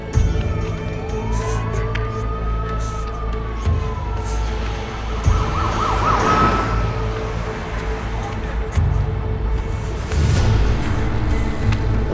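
An ambulance siren in a Turkish drama scene wails in one long rising and falling sweep, loud and fairly close, over a dense rumbling background of traffic and engine noise.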